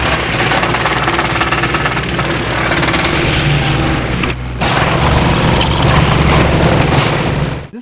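A wood chipper grinds sweetgum hardwood into chips, a loud continuous mechanical roar and clatter with a brief lull midway before the heavy chipping resumes.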